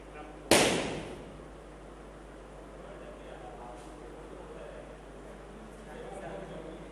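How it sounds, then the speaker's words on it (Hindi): One sharp firecracker bang goes off outside in Jammu and Kashmir and decays quickly, followed by quiet room tone with a faint voice in the background. "यहाँ पटाखों की आवाज़ आती रहती है।"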